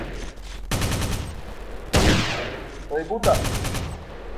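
Video-game gunfire aimed at a car's wheel during a chase: loud bursts of rapid automatic shots in several separate volleys, with a sharp crack near the middle, as a voice shouts briefly between them.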